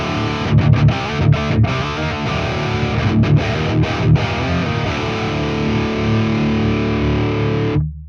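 Heavily distorted electric guitar through a Bogart amp with a lead voicing, playing loud chugging riffs with short rhythmic stops, ending on a held chord that cuts off abruptly.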